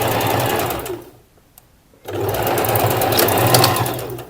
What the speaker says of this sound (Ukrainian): я ось так розкладаю і прокладаю строчку до кінця